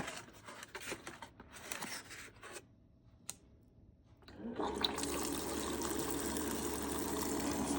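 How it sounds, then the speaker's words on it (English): Hot water from a hot water dispenser pours into an instant yakisoba container, a brief gurgle and click followed by a steady, continuous rushing stream filling the cup, close and alone. "now we're gonna pour some hot water in here up to the line"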